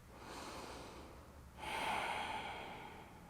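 One deep, slow breath drawn in and let out during yoga stretching, soft and close, alone with no talk.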